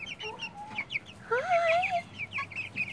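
Baby chicks peep and chirp close by in rapid high bursts, with one longer, lower warbling call in the middle, over a quiet indoor background.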